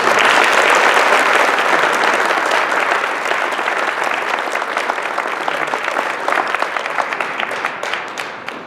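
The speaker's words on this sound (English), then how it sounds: "Let's give them a sincere round of applause." An audience at a facility management awards event gives a sustained round of applause, loud and dense at first, then gradually thinning and tapering off near the end.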